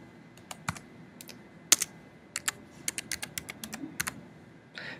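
Irregular keystrokes on a computer keyboard as updated login credentials are entered, close and fairly crisp, arriving in uneven bursts with brief pauses and no talking.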